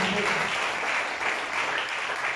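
A church congregation claps in sustained, dense applause, loud and continuous for a short stretch.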